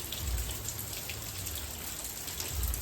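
Heavy rain falls steadily with a dense, even patter of drops on surfaces, close and continuous throughout, with no voices.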